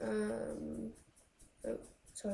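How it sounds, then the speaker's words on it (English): A pet dog growls and whimpers in short, faint bursts in the background while a person speaks briefly nearby. "that's my dog in the background."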